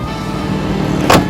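A Toyota Starlet Kotak EP70 XL 1.0 cc car door shuts with a single short, solid thud against a steady background of engine-like rumble and noise.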